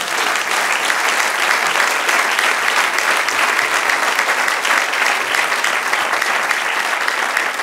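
A church congregation breaks into loud, continuous applause for the Lord during a sermon, many hands clapping densely and evenly without pause, no talking over it.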